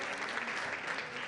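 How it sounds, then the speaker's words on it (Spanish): A short burst of audience clapping for Beatriz at a drug policy forum, dense and continuous at moderate volume. "Y quiero un aplauso para ella."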